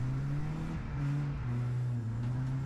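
A video game car engine held at light, steady throttle through a drift, a continuous low hum with a slightly wavering pitch, sustained and fairly close.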